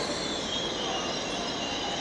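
An InterCity 125 HST diesel train at a station fills the space with a loud, continuous roar and rumble, and the sound stays steady throughout.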